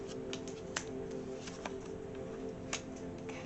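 Tarot cards being shuffled by hand, giving soft continuous rustling and a few sharper snaps and flicks, faint and close over a low steady hum, with no talking.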